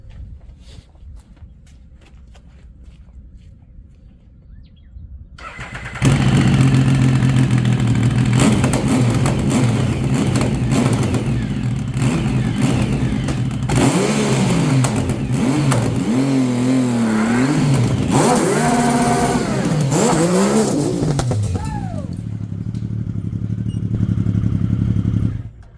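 A 1050cc engine-swapped Yamaha Raptor ATV fires up after a quiet stretch, then idles loudly and revs repeatedly in rising and falling sweeps, close and sustained before cutting off near the end.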